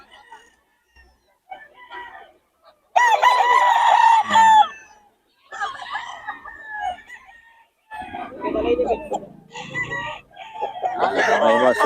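Gamecock roosters of a Golden Boy and Sweater cross crow loudly nearby, one full crow followed by further crows and clucks from other birds, with faint talk between.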